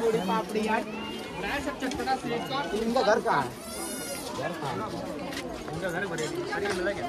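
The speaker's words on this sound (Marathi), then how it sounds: "आणि बरीच गर्दी आहे इकडे, पूर्ण मार्केट आहे." Busy market crowd near a hotel in Manali, with overlapping voices and chatter all around, bleating sheep or goats mixed in, and a steady mid-level bustle throughout.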